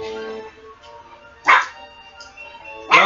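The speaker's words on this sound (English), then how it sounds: "Always barking at me." A dog barks in the video game Donkey Kong Country 2: two sharp, loud barks about a second and a half apart over tonal game music.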